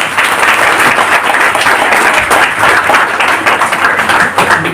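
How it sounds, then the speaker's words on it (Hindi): An audience at a celebration event in Ludhiana claps loudly and continuously, a dense, even burst of many hands with no talk over it. "वाह, एक बार ताली हो जाए"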